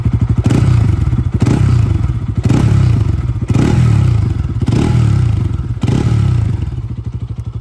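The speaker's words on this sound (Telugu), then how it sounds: "సో చలో there you go, let's hear the exhaust note." A Bajaj Pulsar RS200 motorcycle with a cut underbelly silencer idles and revs close up, giving a loud, bassy, throbbing exhaust note with several rhythmic blips of throttle.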